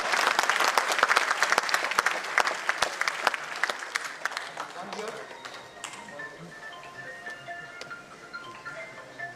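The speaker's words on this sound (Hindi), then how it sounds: "तालियों की गूंज कम नहीं होनी चाहिए" An audience of children and guests at a job fair inauguration applauds loudly at first, then the clapping thins and fades over the last few seconds as scattered claps and a voice carry on.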